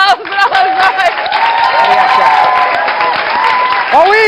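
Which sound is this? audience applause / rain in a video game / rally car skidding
audience applause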